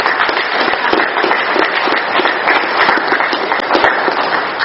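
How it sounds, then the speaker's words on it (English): Applause from an audience at an AA meeting, a steady dense patter of many hands clapping at a constant level with no pauses, no talk heard over it. "Let's give Kathy another round of applause."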